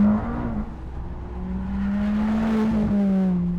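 A McLaren 620R track car's engine, powertrain in its loudest setting, revving hard with a rising and falling droning pitch that swells louder in the second half, sustained and close.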